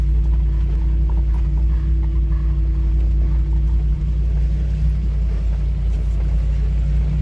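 The V8 engine of an off-road 4x4 idles and crawls along a trail, a heavy, loud, steady low rumble close by with no break.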